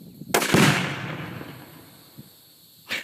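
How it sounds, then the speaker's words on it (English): A rifle firing a high-velocity 300 Blackout round at a watermelon outdoors: one sharp, loud crack followed by a long fading rumble and echo, then a second, fainter report near the end. "we're gonna use this 300 blackout, which is a high velocity round, to shoot the special watermelon over there"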